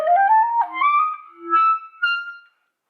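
Clarinet fitted with a plastic reed playing a short run of high notes, a clear, close solo line of sustained pitches with brief breaks between phrases, alone with no talking.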